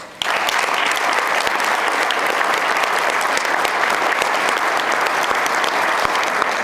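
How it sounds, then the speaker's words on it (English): A hall audience at a university hall of fame induction bursts into loud, sustained applause, dense clapping holding strong and even for several seconds. "I'd like for all of us to give them applause at this point."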